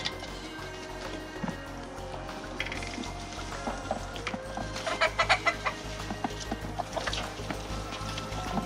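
Chickens cluck and murmur nearby, with a quick run of rhythmic clucks near the middle over faint background noise.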